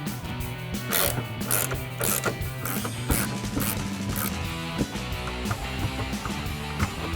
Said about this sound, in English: you can take an 18mm ratcheting wrench and remove your nuts